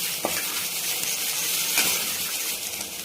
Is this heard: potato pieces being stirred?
yes